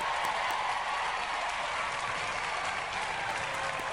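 An arena crowd applauds a winning combat robot, Spikosaurus, with a continuous, even wash of clapping that stays at a fairly constant level throughout.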